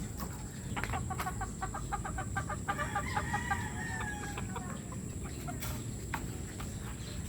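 White Kelso gamefowl chicks cluck and chirp in a steady cluster of short, repeated calls, fairly close, over a constant background hiss with no talking.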